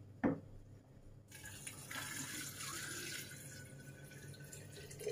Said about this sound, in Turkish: Şimdi sirkemizi katıyoruz. Temiz içme suyumuzu.